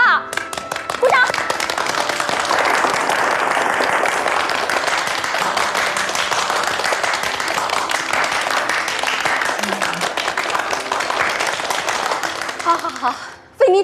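A crowd claps steadily for about twelve seconds at a dense, even level, with voices mixed in, as people applaud a woman worker being praised for completing a hard task for the factory.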